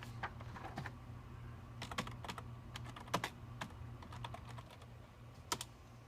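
Clicks from a computer keyboard as a command is typed into a Command Prompt window, in irregular close taps and short bursts over a low steady hum, with no voices.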